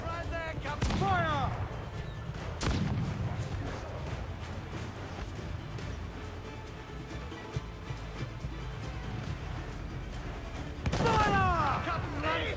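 Ship cannons boom in the naval combat of Assassin's Creed IV Black Flag: a few heavy broadband blasts, one early, one mid-way and one near the end, over game sounds and voices.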